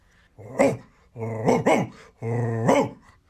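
A person imitates a large angry dog, growling in three rising, rumbling bursts with brief pauses between them.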